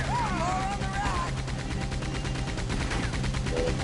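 Rapid gunfire in the video game Erica, dense bursts of shots over a low rumble, loud and continuous for a few seconds, with faint voice-like tones at the start.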